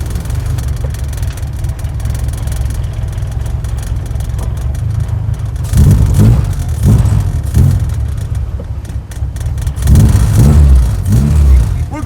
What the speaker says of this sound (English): just put the full exhaust on and we're gonna go for a spin